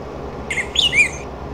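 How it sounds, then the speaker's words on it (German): Birds in Farming Simulator 19 give a brief cluster of high, thin chirps and twitters lasting about a second, clear and moderately near over a quiet rural ambience. "Da waren Vögelchen, schön."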